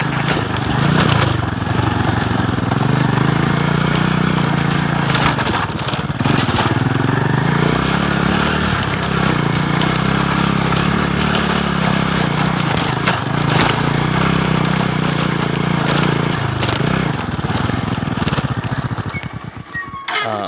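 Motorcycle engine running steadily up close for about twenty seconds, a continuous loud rough drone with slight fluctuations and no clear pauses, winding down briefly at the very end.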